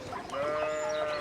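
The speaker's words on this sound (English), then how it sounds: "I don't know anything about sheep." Sheep bleat in the medieval setting of the video game Pentiment, a single loud, wavering bleat held for about a second with no speech over it.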